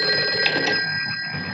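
An old telephone bell rings in a scene from the film Frogs, heard as a steady, shrill metallic trill that holds at a loud level and fades slightly toward the end, with no talking.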